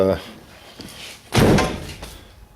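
A vehicle door swings shut with one loud, close thunk, preceded by a softer knock, with a person talking over the sound.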